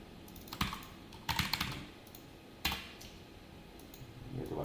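Code being typed on a computer keyboard, heard as a few short clusters of clattering keystrokes separated by quiet gaps, close and clear with no talking.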